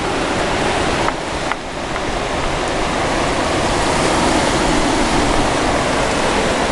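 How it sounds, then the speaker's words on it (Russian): Caspian Sea waves wash steadily onto the shore in a dense, continuous roar of surf, loud and close with no voices. "Мерно шумит Каспий своими волнами."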